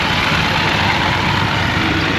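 A tractor engine runs steadily near Omaha Beach in Normandy, France, at an 80th anniversary D-Day event, giving a continuous loud, low rumble with no talking over it.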